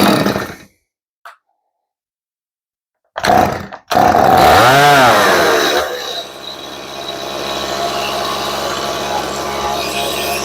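A chainsaw on full choke is pull-started in a workshop during a tune-up: short bursts from cranking give way to a loud roar that catches and settles into a steady running drone.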